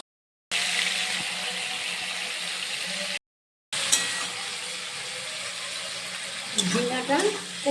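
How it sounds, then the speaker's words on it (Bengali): Ridge gourd sautés in a pan with a steady, close sizzling hiss, broken by two brief cuts, while stirring and scraping sounds rise near the end. "ঝিঙাটা কষে নিলাম"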